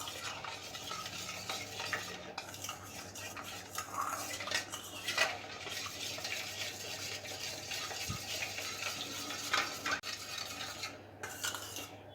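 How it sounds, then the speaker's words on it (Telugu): A spoon stirs sugar, dry yeast and hot water together in a bowl for bun dough, continuous close scraping and clinking against the bowl, steady and unbroken throughout. "వేడి నీళ్ళు వేసిన తర్వాత ఇది బాగా కలిసేలా కలుపుకోవాలి"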